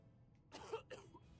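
A character in the survival game 60 Seconds gives a couple of short, faint coughs, close and isolated against a quiet low background.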